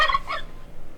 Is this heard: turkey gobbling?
yes